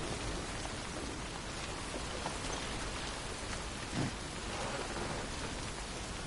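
Heavy rain falling in the video game Death Stranding, a dense, constant hiss that is loud and close throughout, with a brief low rumble partway through and no talking.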